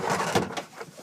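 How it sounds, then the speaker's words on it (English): Hinged doors of an aircraft's rear gunner turret being opened by hand, a short sequence of close mechanical clunks and scrapes from a door that sticks a little, with no talking over it. "I'd have to open the doors"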